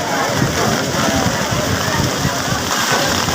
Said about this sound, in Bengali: দেখেছেন কিরম বৃষ্টি পড়ছে সবাই ভিজে যাচ্ছে